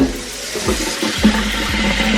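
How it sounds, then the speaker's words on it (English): Tap water runs steadily into a cooking pot for grits in a home kitchen, a continuous splashing stream with the pitch rising slightly as the pot fills. "Put some water in my pot."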